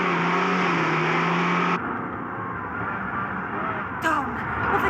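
A car engine surges and climbs in pitch as a runaway vehicle with failed brakes speeds up out of control in a horror drama scene, a steady close roar that shifts abruptly partway and then rises again.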